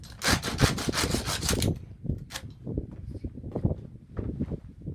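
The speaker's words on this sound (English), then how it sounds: "So I've just started using this bow saw, cutting it up pretty high, right through the bone." A bow saw cutting through a sheep's leg bone outdoors, rapid close rasping strokes in a quick rhythm for about two seconds, then slower, scattered scraping and rustling with light wind.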